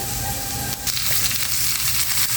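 Loud, steady sizzling of onion and garlic frying in a little hot oil, close up, with a brief stirring scrape partway through.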